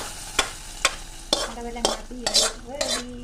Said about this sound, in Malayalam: നമ്മുടെ പടവലങ്ങ തീയലിലോട്ട് നമ്മുടെ കടുക് പൊട്ടിച്ചൊഴിക്കുന്നു